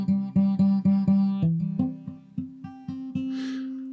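An acoustic guitar chord strummed repeatedly in a steady rhythm, each stroke ringing close and clear, with a slight rattling buzz in the strings as the pattern shifts and ends on a sustained chord.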